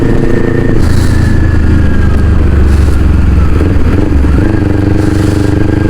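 Motorcycle ride along a provincial road in the Philippines, with a loud, steady engine drone and rushing wind noise throughout, the engine note rising and falling slightly.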